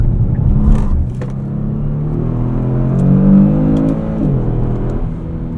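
A 2018 Kia Stinger GT RWD engine pulls hard in second gear, its loud rumbling drone rising in pitch and then easing off, heard from inside the cabin with no talking.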